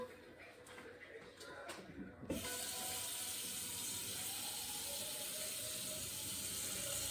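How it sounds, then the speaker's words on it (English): Water runs from a kitchen sink tap into a pot, starting abruptly after some quiet kitchen handling noises, then a steady, close, loud rush continues to the end. "Just gonna fill this thing with water."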